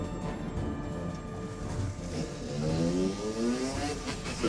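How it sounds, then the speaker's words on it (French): Unregistered motocross dirt bike engine revving and rising in pitch during a pursuit, heard at moderate distance over rumbling background noise. "La moto n'a pas le droit de rouler sur la route car c'est une moto de cross non immatriculée."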